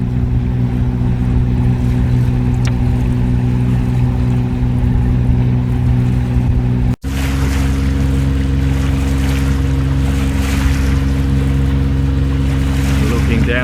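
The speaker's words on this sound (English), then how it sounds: "4 boats I can see are heading out." A motorboat cruises down the Burnett River at sunrise, heading out from the marina alongside other boats. Its loud, steady engine drone runs with wind and water wash throughout, and there is a brief dropout midway.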